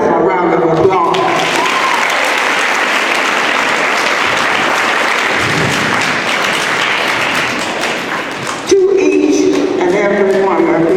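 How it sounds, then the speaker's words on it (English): At a Clement Middle School event, an audience claps in a loud, dense round of applause that runs steadily for about eight seconds between brief stretches of talk. "Give yourself a round of applause."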